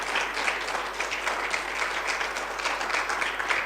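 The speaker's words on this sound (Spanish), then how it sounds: "Yo le voy a pedir que le dé un aplauso al Señor." A church congregation applauds steadily, a dense sustained wash of many hands clapping that holds at an even level throughout, with faint voices blended underneath.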